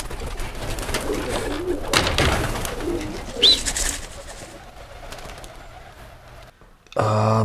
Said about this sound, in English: The pigeons. Yes, we fly the pigeons.